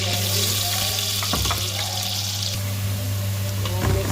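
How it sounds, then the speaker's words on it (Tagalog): Onions frying in a pan for a spicy pigeon dish make a steady, fairly loud hiss that runs throughout, with a few brief clatters of utensils. A low constant hum sits beneath it. "first i-fried muna natin ang onions natin."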